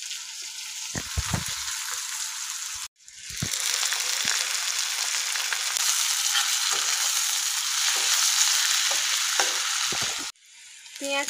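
Onions fry in hot mustard oil with a loud, steady sizzle that runs almost without a break, with a brief dip near the start and another near the end. Occasional stirring scrapes sound close by, and no one speaks.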